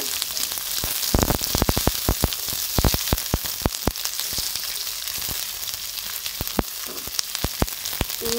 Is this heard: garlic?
yes